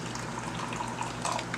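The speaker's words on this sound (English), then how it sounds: "So this is hot water, and I'm gonna put a cup of water here." Hot water pours steadily into a cup for a simple syrup, a soft continuous trickling stream at close range that swells slightly near the end.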